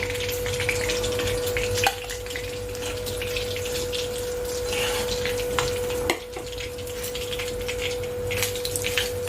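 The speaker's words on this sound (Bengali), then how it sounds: "এইভাবে আমি বাকিগুলোকেও ভেজে নিচ্ছি" Steady sizzling of katla fish frying in hot oil, with a faint constant hum and a couple of brief clatters.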